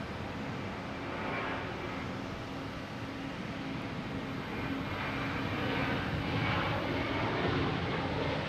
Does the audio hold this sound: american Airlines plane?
yes